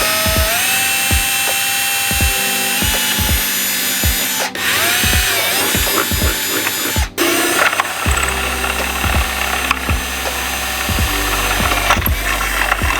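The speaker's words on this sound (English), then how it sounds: "I'm gonna start drilling out the pilot holes for all of the smaller guys that gotta go in here" A power drill bores pilot holes to fit a front lip on a 2022 Subaru BRZ, with repeated short whirring bursts and ratcheting clicks in a steady stop-start rhythm, loud and close.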